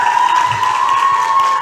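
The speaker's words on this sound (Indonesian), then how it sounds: "Tepuk tangan dong." Student audience at a financial education event in Jakarta breaks into loud, continuous applause and light cheering, a close wash of clapping with a steady tone running through it.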